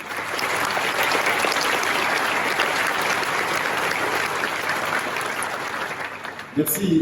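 Audience at a civic speech in a city hall setting applauds steadily, a dense, even wash of clapping that holds for several seconds before tapering off.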